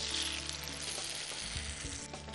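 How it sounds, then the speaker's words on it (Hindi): Fresh tomato puree poured into hot oil in a pan for a paneer gravy, giving a continuous bright sizzle with light stirring bumps, close and steady with no talking. "अब इसके अंदर हम डालते हैं ये फ्रेश टमाटर प्यूरेड"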